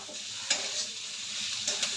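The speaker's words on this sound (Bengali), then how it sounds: "তো দেখো পেঁয়াজটাও ভাজা হয়ে গেল আমার" Onions fry in a pan with a steady, close sizzle, broken by a couple of brief stirring scrapes.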